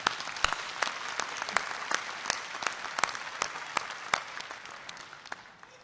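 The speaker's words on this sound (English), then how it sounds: "Please join me in giving her another round of applause." At a university commencement ceremony, a crowd applauds the national anthem singer with sustained, even clapping, a few louder nearby claps popping out before it tapers off.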